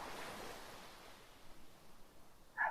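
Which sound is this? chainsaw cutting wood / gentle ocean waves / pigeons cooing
gentle ocean waves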